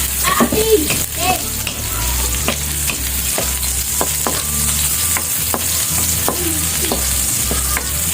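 Food sautés in a little cooking oil, giving a constant sizzle broken by frequent scrapes and stirring clicks of a spatula against the pan, heard up close.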